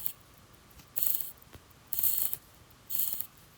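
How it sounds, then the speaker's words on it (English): Winding the crown and spinning the rotor of a Forge & Foster Titan X Centurion automatic watch gives three short bursts of close, crisp ratcheting clicks separated by brief quiet pauses. "its affordability can be clearly heard when you wind the crown or spin that rotor"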